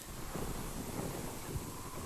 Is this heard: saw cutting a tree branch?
no